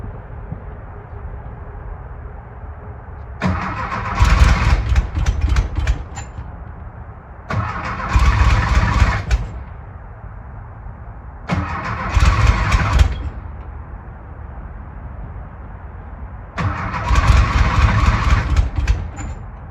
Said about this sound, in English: let's see if it's gonna start now.